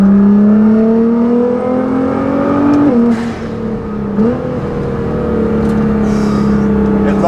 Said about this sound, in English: Wow, the sound of this car.